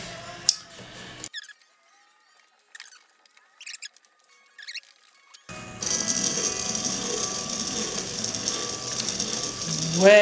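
A trimming tool scrapes and chatters against a dry clay pitcher on a spinning pottery wheel, with intermittent squeaky scratches and pauses, then a steady gritty whir of the wheel.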